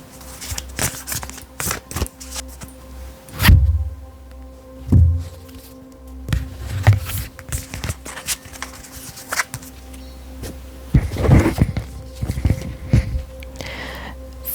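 Oracle cards shuffled by hand during a tarot-style card reading, with repeated soft riffling bursts and papery slaps at close range, separated by short pauses and quiet handling.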